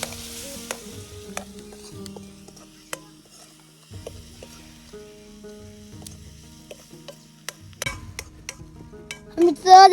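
Masala is stirred into onions in a pan in a village kitchen for dahi raita, giving sparse ticks and scrapes over a low, quiet sizzle, with a louder clatter of the spoon at the very end.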